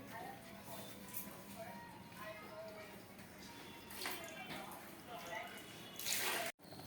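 A pot of liquid bubbling at a rolling boil, a continuous low burbling hiss at moderate distance, with a voice talking over it and a brief sharp clatter just before the end.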